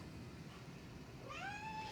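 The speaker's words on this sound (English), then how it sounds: "a cat chewing on the box behind you" A cat meows in a room beside a box, a single rising then falling cry near the end, over a steady low background hum.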